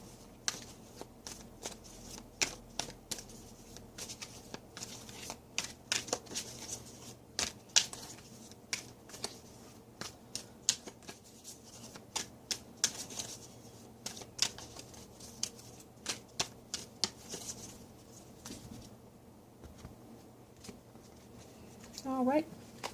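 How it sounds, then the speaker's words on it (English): Witch's Tarot cards shuffled by hand, a long run of soft, quick riffling and papery slaps in irregular bursts, close and fairly quiet. "All right, with that I'll shuffle the cards."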